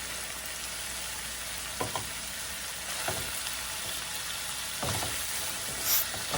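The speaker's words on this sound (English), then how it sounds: "Stir all the ingredients until all mix well." A spoon stirs a tomato sauce mixture for stuffed bell peppers in a pan, soft scraping strokes over a steady quiet sizzle, faint and close.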